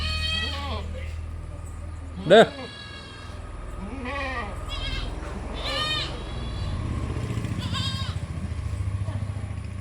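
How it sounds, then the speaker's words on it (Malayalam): A large crossbreed goat and its one-month-old male kid bleat repeatedly, one loud close cry standing out, with a steady low background hum throughout. "വലിയൊരു ക്രോസ് ബീഡ് ആട് അതിൻ്റെ ഒരു മാസമായ ഒരു മുട്ടൻകുട്ടി കുട്ടി ഇവിടെ"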